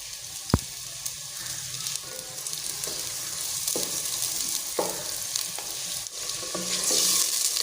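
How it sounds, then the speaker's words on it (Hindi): Chopped onions fry in ghee inside a deep pot over a village stove, a steady close sizzle with sharp clicks and scrapes of stirring scattered throughout. "कटे हुए प्याज घी में डाल दिए हैं।"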